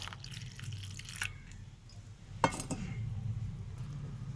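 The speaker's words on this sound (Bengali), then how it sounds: "এরপর আমি অল্প অল্প করে জল দেবো।" Water is added little by little to gram flour batter seasoned with salt and turmeric, with faint splashes, a sharp clink of a utensil against a bowl, and soft stirring sounds nearby.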